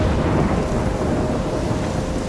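Thunder rumbles through heavy rain in a storm scene from the video game Life Is Strange, a loud, continuous wash of downpour and low rolling thunder with no voices.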